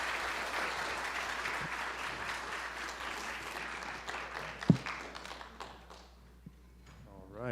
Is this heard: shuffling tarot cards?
no